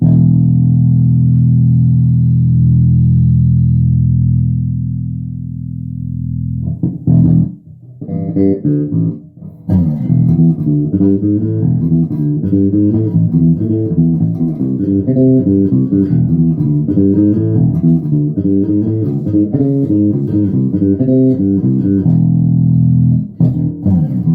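A loud electric guitar plays a riff through an amplifier with distortion and effects, mid-range turned up: a long sustained low chord, then a busy repeating riff with a few pauses, heard alone.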